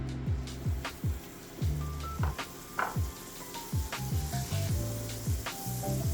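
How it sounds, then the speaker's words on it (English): Fifty grams of butter melting in a hot pan over medium heat, a soft continuous sizzle with repeated sharp clicks and knocks throughout, close and fairly quiet, with no talking. "Heat a pan over medium heat. Add in 50 grams butter and melt."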